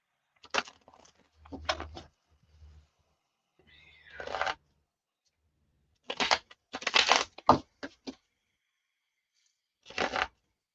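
A tarot card deck being shuffled in bursts of dry riffling and crisp flapping, several separate shuffles spread out with quiet gaps between them, close and fairly soft.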